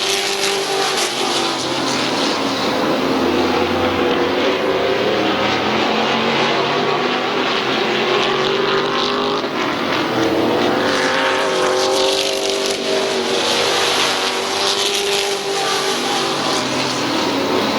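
Race cars lapping Midvale Speedway, a continuous loud roar of several engines rising and falling as cars pass and trail one another, with no talk over it.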